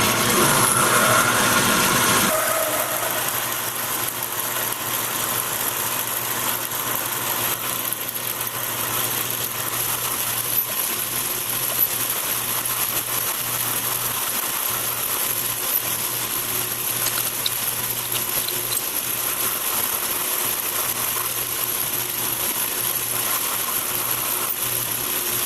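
A drill press bores into a steel tap wrench handle, giving a steady, continuous mechanical hum with a constant motor tone after a brief louder start, running alone without talk.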